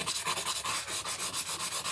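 Rapid rhythmic rasping of a green and gold rock being cut or ground, close and fairly loud, with steady repeated strokes and no talking.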